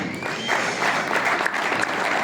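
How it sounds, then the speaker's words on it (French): An award ceremony crowd applauds a prize winner, a loud, dense roar of clapping that swells slightly after the first half second and holds steady to the end. "on l'applaudit bien fort, Loïc Clément du CMP Chini"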